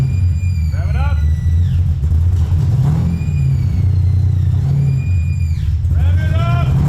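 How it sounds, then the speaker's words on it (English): A supercar-powered Mustang fitted with Pipes Race Pro mufflers revs loudly from the rear, with repeated rising and falling throttle blips over a deep idle rumble, and people talk over it. "We got our Pipes Race Pro mufflers on there. Fired up, let's hear it in the back."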